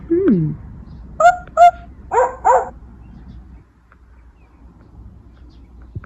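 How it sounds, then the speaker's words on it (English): A farm sound book plays a recorded dog, with a whimpering yelp and then several sharp barks in pairs, loud and close, ending in near quiet. "This has a doggy."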